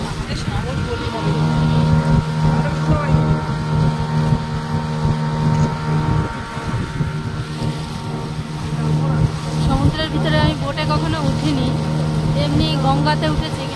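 A motorboat crossing the sea off Puducherry drones with a steady, loud engine hum, mixed with rushing wind buffeting the microphone, while people talk over it.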